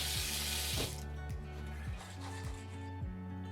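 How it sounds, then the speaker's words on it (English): Soaked, swollen peas drained and rinsed under running water, a close hiss of flowing water with bursts of splashing and faint rattling, steady for a few seconds. "So drain them, give them a quick rinse"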